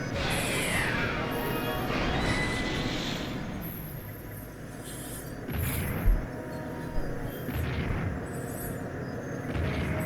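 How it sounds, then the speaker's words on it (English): A harpoon cannon fires in the video game Skies of Arcadia Legends: dense crashing and rumbling mechanical noise with a sharp impact thud midway, continuous and loud throughout. "Harpoon cannon, fire!"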